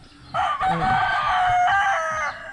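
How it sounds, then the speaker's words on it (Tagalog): A rooster crows loudly nearby, one long drawn-out call lasting about two seconds, with faint chicken sounds around it. "Ayun yung mga manok dito"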